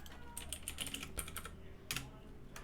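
Keys clatter on a computer keyboard in quick, uneven bursts while someone types, with short pauses between runs of strokes, close and fairly quiet.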